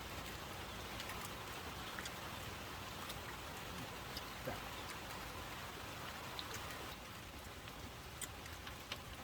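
Steady rain patters softly and continuously, a faint hiss with scattered drips, no voices.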